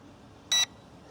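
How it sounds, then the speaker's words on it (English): A single short electronic beep from a camera drone sounds once, clear and high-pitched, against a quiet background. "It's beeping, but I don't have any indication on the app as to why that is."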